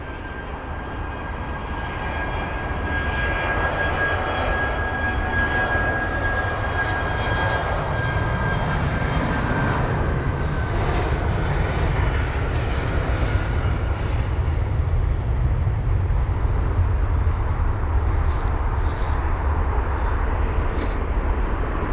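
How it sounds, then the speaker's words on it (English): A 16-year-old British Airways Airbus A319 departs Heathrow for Milan, its jet engines producing a sustained, broad roar that swells early and holds loud and steady throughout, with a few faint clicks near the end. "So the BA 319 off to Milan, flight number BA 584 with the reg Golf Delta Bravo Charlie Kilo."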